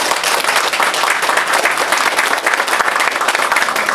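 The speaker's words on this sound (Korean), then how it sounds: "우리 하나님께 영광의 박수를 올려드리고" A church congregation at a Christmas service breaks into loud, sustained applause, many hands clapping together in a thick, even wash close by.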